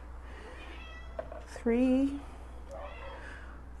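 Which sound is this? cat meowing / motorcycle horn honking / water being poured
cat meowing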